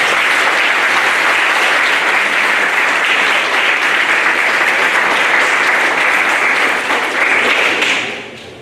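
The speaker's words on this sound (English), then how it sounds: "Let's give them another round of applause." An audience at an elementary school 5th grade completion ceremony applauds, sustained loud dense clapping that runs steadily for several seconds before fading out at the end.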